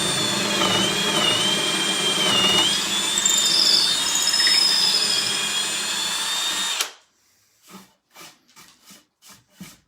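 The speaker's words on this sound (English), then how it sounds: "then you can go ahead and just drill right straight through." A loud power drill whines steadily while boring through a wooden furniture piece for hardware holes, then stops abruptly, followed by a few short bursts of the drill.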